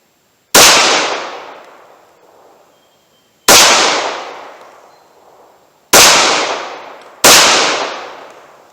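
Four loud, sharp pistol shots from a Glock 41 firing .45 ACP hand loads at a range, each with a long decaying echo, the last two spaced closer together.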